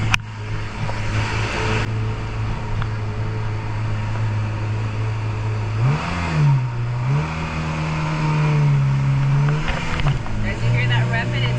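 A car engine revving in a steady drone with several rises and falls in pitch, close by and fairly loud, with people talking over it on a drive in Montego Bay, Jamaica.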